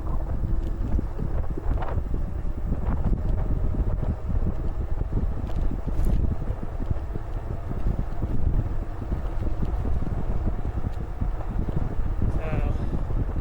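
Strong, constant wind rush buffets the microphone while a Velotric Breeze e-bike rides on its throttle, with a continuous broadband roar that stays loud throughout.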